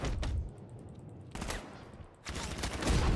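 Enemy gunfire in the action video game Batman Arkham Knight, with bursts of shots in three loud clusters separated by short lulls, heard up close over a busy game mix.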